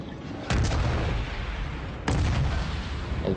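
Warship main guns fire in the naval combat game World of Warships, two heavy booming salvos a second and a half apart, each trailing off in a low rumble, with no talk.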